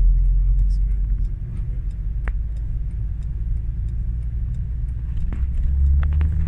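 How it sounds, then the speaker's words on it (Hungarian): A blue Opel diesel car engine running with a steady low rumble and a faint ticking, close and constant, while a voice speaks over it. "Egy Opel, egy kék Opel dízel."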